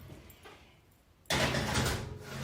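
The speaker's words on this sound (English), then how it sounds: "The oven is right underneath the camera, so you'll hear the oven door opening." An oven door, located just beneath the camera in a home kitchen, opens with a sudden loud broadband clunk followed by a sustained rushing, airy hiss that stays close and fairly loud to the end.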